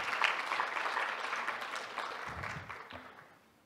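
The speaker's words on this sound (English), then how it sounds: "Please give your final applause for Patrick Fritz and the rest of the panelists." A congress audience applauds the panelists in a sustained wash of clapping that stays fairly loud, then thins and fades toward the end, with no talking over it.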